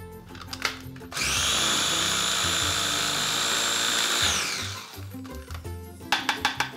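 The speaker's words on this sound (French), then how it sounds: "On commence d'abord avec notre petit robot à mettre le persil" A small food processor whirs loudly in one steady burst of about three seconds as it chops parsley for a mustard gratin crust on beef fillet, with kitchen clatter just before and after.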